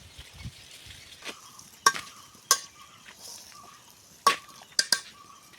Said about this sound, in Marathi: धुवून घेऊन नंतर आपण आता फोडणीला देणार आहोत